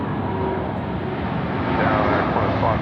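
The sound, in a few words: Qantas airliner at Sydney Airport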